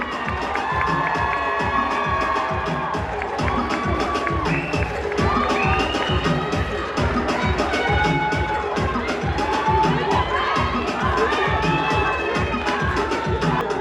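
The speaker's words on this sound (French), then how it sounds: "Est-ce qu'on peut l'applaudir s'il vous plaît?" An audience at a Miss Congo France pageant applauds and cheers in a continuous dense roar of clapping, with excited shouts and voices woven through it throughout.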